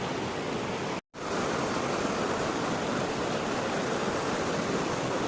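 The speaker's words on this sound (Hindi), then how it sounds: "प्रकृति की गोद में ये जो छोटा सा झरना बना हुआ है" A small waterfall on a riverside trek rushes with a constant, full roar close by, the steady wash broken only by a momentary cut near the start.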